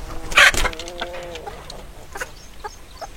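Chickens and roosters on a farm cluck and call loudly as they come out of the coop in the morning, a close burst of squawks followed by quieter scattered clucks.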